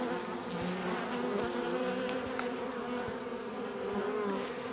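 Honeybees in an open hive during an inspection for queens hum in a dense, steady buzz that fills the whole stretch, close and continuous, with faint individual wingbeats flickering over it.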